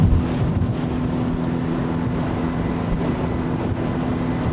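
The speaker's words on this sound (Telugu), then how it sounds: "ఆ బోట్ వెళ్ళిన రూట్లోనే వెళ్తుంది మన బోట్ కూడా" A speedboat heading across the sea toward the Phi Phi Islands, its engine a loud, continuous low drone mixed with wind and water rush, with no voices.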